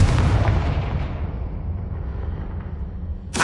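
A Confringo blasting spell explodes in Hogwarts Legacy: a loud, close boom that rumbles and slowly fades over a few seconds, followed by a fresh sharp burst at the very end.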